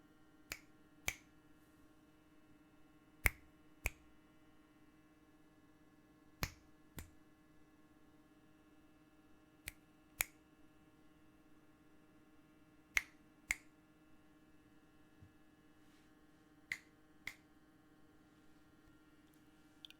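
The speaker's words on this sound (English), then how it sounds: "I'm going to snap my fingers a few times in your ears." Close finger snaps beside the ears, single crisp dry clicks or quick pairs spaced irregularly over a quiet room hum, with no talk.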